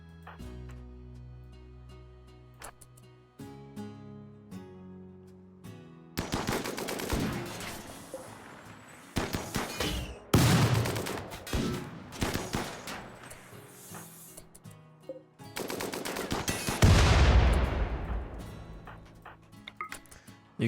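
Turret gunfire in the video game RimWorld, bursts of rapid automatic shots and scattered single cracks in dense clusters, loud and close, separated by quieter gaps with low game tones.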